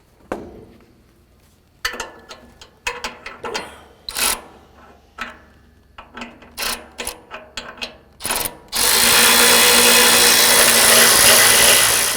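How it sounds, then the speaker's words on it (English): Power tool or ratchet work backing out the four bolts on the gear motor of a SaltDogg 147 Series mid-size stainless V-box chain spreader, a series of short loud mechanical bursts, then a sustained harsh whir at the end. "So I'm going to start taking all 4 bolts off"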